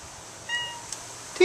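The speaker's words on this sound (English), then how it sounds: "my cat is right up against the door" A cat agitated after an earthquake gives a couple of short, thin meows close by, the last one louder, over a quiet background.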